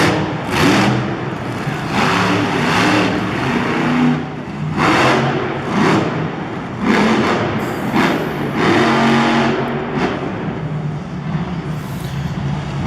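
Monster truck engine revving hard during a wheelie at a Monster Jam freestyle show in St. Louis, loud roaring revs that rise and fall in repeated surges, with arena crowd noise underneath.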